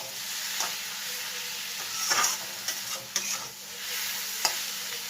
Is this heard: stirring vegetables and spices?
yes